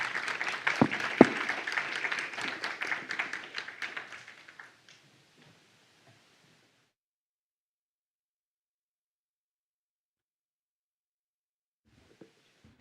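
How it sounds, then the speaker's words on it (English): Seminar attendees applaud the panelists with brisk clapping that fades out after about five seconds, leaving near silence, then a couple of faint taps near the end. "Let's give them a big round of applause."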